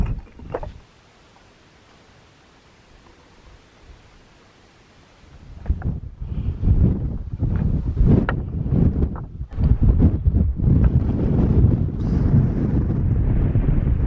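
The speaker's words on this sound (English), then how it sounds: "Back in the wind." Strong wind gusting across a mountain summit, roaring and buffeting loudly against the microphone after a quieter opening, with no talking.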